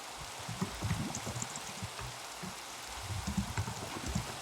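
Rain in the video game Minecraft makes a soft, steady hiss with irregular low pattering, faint and continuous throughout.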